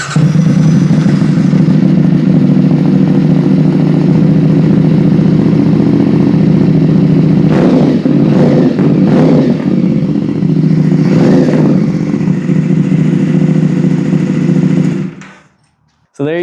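A LeoVince GP Corsa slip-on exhaust on a 450SS motorcycle idles loud and close with a deep steady drone, several short revving blips partway through, then the engine cuts off near the end.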